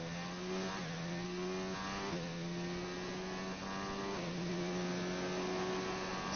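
Formula 1 car in F1 2019 at Bahrain on a flying qualifying lap, onboard: a loud, steady high-pitched engine whine rising through the revs with brief dips at gear shifts, no talking.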